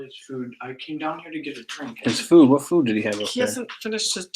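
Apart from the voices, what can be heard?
None of the usual background noises is heard.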